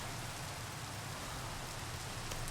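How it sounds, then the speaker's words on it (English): Rain in Minecraft with the JurassiCraft mod, a soft continuous hiss of falling rain at low level, steady and unbroken, with no speech. "But now it starts raining."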